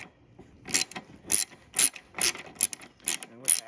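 Socket ratchet working a bolt on the new carburetor of a Toro Recycler 22-inch lawnmower, giving close, crisp clicking bursts repeated roughly every half second, with no talk.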